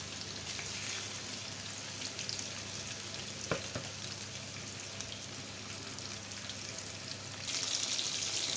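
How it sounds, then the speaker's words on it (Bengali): Hilsa fish fry in a pan and are turned over, a soft, even crackling sizzle at moderate distance with a sharp clink midway and a brighter hiss rising near the end. "বন্ধুরা মাছগুলো উলট পালট করে ভেজে নেব"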